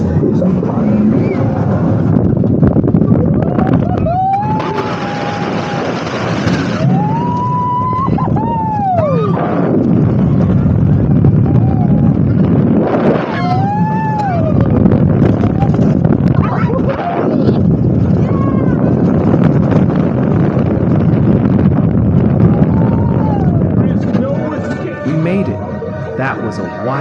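Onride sound from Cobra's Curse, a Mack Rides spinning roller coaster at Busch Gardens running forwards and backwards at up to 40 mph: a loud, steady wind roar with rumbling track noise and whistling tones, and voices cutting through.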